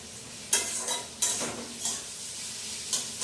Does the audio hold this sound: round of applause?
no